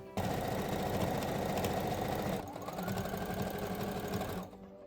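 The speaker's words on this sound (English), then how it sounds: "I'm gonna turn this inside out, and I'm going to sew here and here." A sewing machine stitches a pixie hood, running in a steady, loud mechanical whir, briefly pausing near the middle, then resuming and slowing before stopping at the end.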